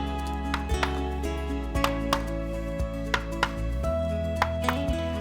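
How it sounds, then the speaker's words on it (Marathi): A filled cupcake tray of chocolate batter tapped against a surface, giving a series of sharp metallic knocks at uneven intervals over a steady background hum. "आणि हे भरल्यावर थोडंसं टॅप करायचं आपण"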